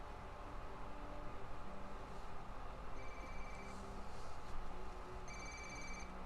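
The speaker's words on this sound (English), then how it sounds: "You're going to want to answer your phone, Officer Bowman." A phone rings in the Ghost Recon Wildlands video game, soft electronic ring tones over a constant hiss of background noise, with no talk during the ringing.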